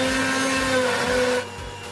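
A kitchen mixer grinder whirs loudly with a steady motor hum as it grinds spinach for palak paneer, then cuts off abruptly near the end, leaving quieter room tone.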